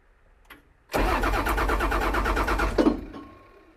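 An old, long-neglected excavator's engine cranking over for about two seconds, a loud, steady, rhythmic churning from the starter that stops abruptly, with faint clicks before and after.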